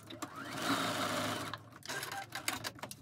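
Sewing machine straight-line quilting a quilt-as-you-go zipper pouch, running steadily for about a second and a half before breaking into shorter stitching bursts, close and clear with no talk.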